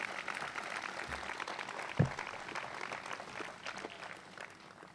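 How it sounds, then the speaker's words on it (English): Applause from the audience at a groundbreaking ceremony for the RWJBarnabas Health Athletic Performance Center, a steady spread of many hands clapping throughout, moderately loud, with one sharp louder clap or knock near the middle. "Give them a round of applause."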